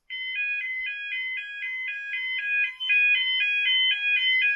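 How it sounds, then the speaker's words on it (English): A Cliff and Snell YA30 Yodalarm sounds continuously, a loud, rapidly warbling two-tone electronic alarm with steady pulsing rhythm, heard alone and close. "These Cliff and Snell YA30 Yodalarms, they sound really amazing."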